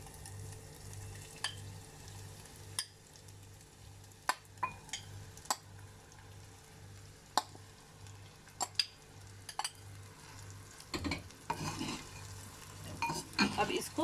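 Marinated chicken goes into a pan of fried ginger and garlic for chicken handi, with a low sizzle and repeated sharp clinks and scrapes of a spoon against the pot, while a voice speaks briefly.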